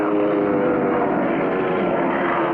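A cartoon propeller plane from the 1959 crop-duster episode roars as it dives to ram a giant bug, a loud, steady engine drone holding unbroken throughout.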